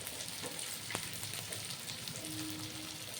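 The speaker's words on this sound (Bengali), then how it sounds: "সুন্দর করে ভেজে নেব।" Water lily stems frying in a little oil, a steady close sizzle with soft crackles throughout, no talk.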